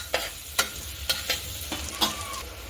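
A spoon stirs spices and vegetables for masala bhat inside a pressure cooker, making several scraping, clinking strokes over a soft, steady sizzle.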